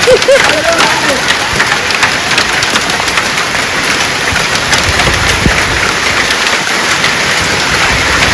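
A heavy hailstorm with rain pounds a road in Guledgudda, giving a dense, loud, continuous clatter and hiss throughout, with faint voices in the background.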